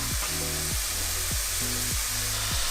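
Squid and shiitake mushrooms stir-fried in a wok for traditional glutinous oil rice give a steady, close hiss of sizzling oil, with rhythmic swooping tones repeating about every half second and no talking.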